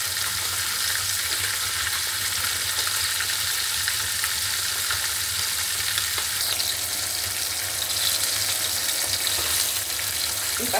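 Koi fish frying in oil, a steady, loud sizzle and crackle that holds evenly throughout with faint clinks near the end.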